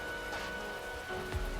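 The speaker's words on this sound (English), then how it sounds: "But you seem to have saw the rain coming, Texas." Steady rain pours down in the video game Arknights, a constant broadband hiss of drops on surfaces with a low rumble near the end.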